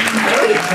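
An audience applauds at a live concert at Le Divan du Monde in Paris. The clapping is a short, loud burst that overlaps a voice.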